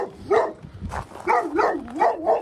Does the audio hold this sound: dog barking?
yes